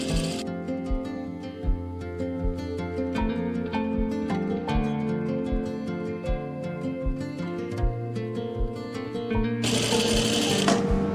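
A sewing machine runs steadily, stitching a topstitched seam on a kurti, close and continuous with a regular mechanical rhythm and a brief change of tone near the end.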